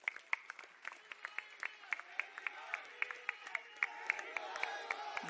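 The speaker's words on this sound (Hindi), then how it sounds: "मेरी मुराद है आपकी तालियों के बीच अरविंद केजरीवाल।" Audience clapping greets Arvind Kejriwal at a Punjab political gathering marking by-election wins: sharp, fairly sparse claps ring out at an irregular pace over a steady tonal backdrop, moderately loud throughout.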